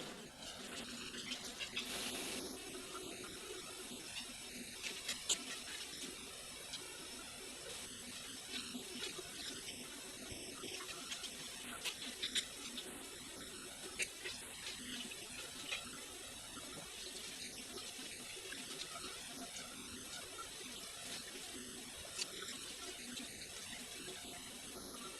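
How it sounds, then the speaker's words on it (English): Tap water runs steadily into a sink while makeup brushes are washed, a faint constant hiss and splash with occasional small knocks and rustles throughout. "you won't be able to hear me anymore over the sound of running water"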